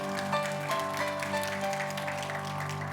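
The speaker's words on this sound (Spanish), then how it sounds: "Denle un aplauso fuerte al Señor, porque Él es bueno." A church congregation claps for the Lord, a sustained wash of applause at moderate volume with music or sustained tones running underneath.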